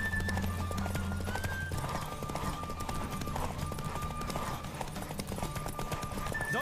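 Rapid hoofbeats of a galloping horse in The Witcher 3: Wild Hunt clatter steadily over a busy, music-like background, with a brief whinny-like tone mixed in.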